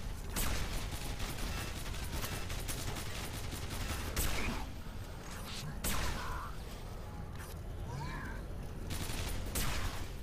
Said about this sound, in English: it's been 3 railgun hits and this thing is still alive